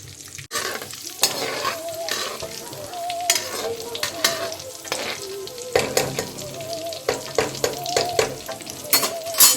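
Whole spices, bay leaf and two dried red chilies fry for a dal makhani tadka, a bright sizzle with repeated metallic clinks and scrapes of a spoon against the pan, close and without speech.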